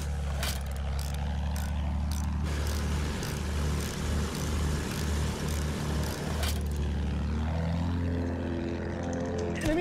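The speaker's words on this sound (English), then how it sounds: "Enemy aircraft moving around!" Enemy aircraft moving through a video game battle, a steady droning engine hum with shifting tones that swells and changes pitch toward the end, continuous and fairly loud.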